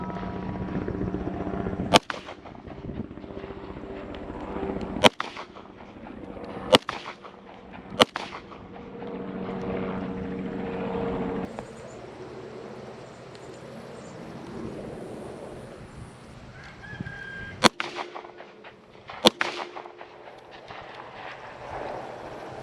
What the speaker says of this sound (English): so that's 15 rounds with the Colt 2000 All-American